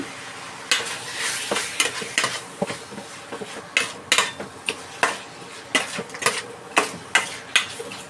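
Chicken sautéing in its own juices in a pan, stirred with a utensil, giving a soft steady sizzle broken by repeated sharp scrapes and clinks of metal against the pan, close up.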